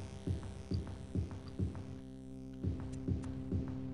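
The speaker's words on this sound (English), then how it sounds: "Comes the sound of drums." Slow, muffled drums thud in the video game The Elder Scrolls: Arena, steady beats about twice a second over a low droning hum, briefly pausing before resuming.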